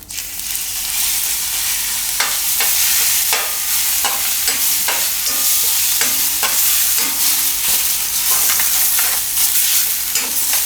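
Grated potatoes fry loudly in a hot pan with cumin and asafoetida, a steady dense sizzle broken by repeated scraping strokes of a spatula, close up with no talking.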